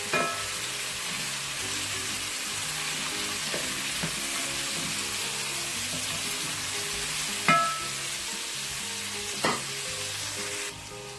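About half a kilo of mutton frying in a pan with whole masoor lentil masala, a dense, steady sizzle running throughout with a few sharp stirring clinks near the end.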